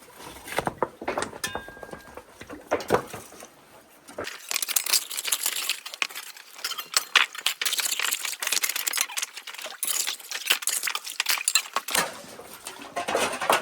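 Test pan of gravel from a river's inside bend panned for gold, with close scraping, rattling and clinking of stones in a metal pan, sloshing water between bursts, brief and irregular, no talk.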